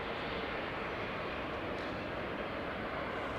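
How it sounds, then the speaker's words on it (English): A Bombardier C Series 100 airliner at Amsterdam Schiphol, bound for Milan, gives off a steady broadband engine rumble that holds even and unbroken throughout, with no voices over it. "Bombardier C Series 100 going to Milan."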